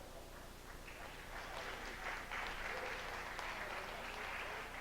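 Sparse applause from a small part of a racquetball match audience, a steady patter of scattered hands that swells slightly and holds for several seconds, with no speech over it.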